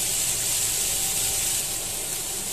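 Ginger and garlic masala roasts in a pan with a loud, constant, even hiss that carries on without a break.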